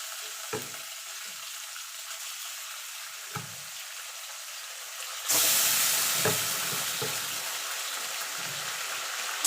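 Chickpeas frying in hot oil before taro leaves go in, a continuous close sizzle with occasional stirring knocks, which swells into a louder, brighter hiss midway and stays strong to the end.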